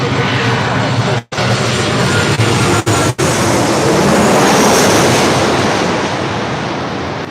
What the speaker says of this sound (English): This is American Airlines 1899 coming in from Indianapolis on a 737-800.